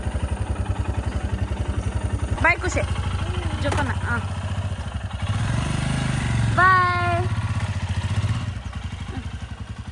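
A motorcycle idling and pulling away, its rapid steady engine putter running throughout, swelling louder midway, while people talk and call out over it.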